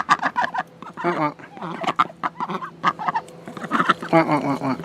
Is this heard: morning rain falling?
no